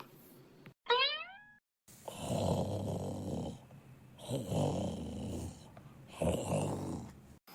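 An old man snores loudly and close by in the early morning, each long, rasping snore repeating in a slow, steady rhythm after a brief rising twang at the start.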